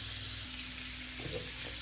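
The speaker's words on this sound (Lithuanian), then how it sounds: "Tai va, kepame morkytes." Carrots fry in a pan after onions have been lightly browned, giving a soft, steady sizzle. A faint stirring scrape cuts in near the end.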